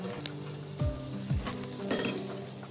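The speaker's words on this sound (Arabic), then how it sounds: "بنحط زيت زيتون وبنشوح البصل الأخضر" Green onion sautés in olive oil with a soft, close sizzle, punctuated by a few clinks and scrapes of a utensil against the pan.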